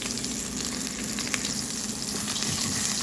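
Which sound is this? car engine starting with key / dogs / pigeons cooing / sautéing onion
sautéing onion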